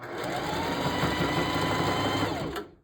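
A sewing machine stitches hair tracks onto a mesh dome cap in one steady, loud, close, continuous run of rapid mechanical whirring that stops abruptly at the end; no talking.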